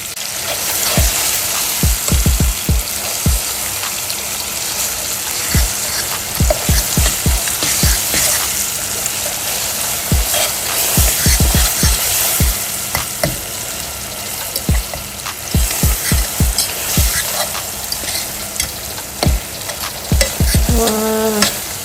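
Crème fraîche stirred into a hot frying pan, a steady loud sizzle and bubbling with repeated scraping strokes of the utensil throughout, close up, no speech.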